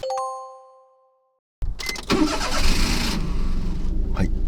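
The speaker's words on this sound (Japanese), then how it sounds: "はい、車内にエンジン音が響き渡ります。" Engine of a 24-year-old Daihatsu mini truck starting up inside the cab: a short electronic chime fades, then the starter cranks and the engine catches and settles into a loud, steady run.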